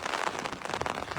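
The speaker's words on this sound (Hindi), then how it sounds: "आज बारिश हुई है" Steady heavy rain in Bilaspur, Himachal Pradesh, a dense continuous hiss of drops pattering on surfaces, fairly quiet and unbroken across the short stretch with no voices.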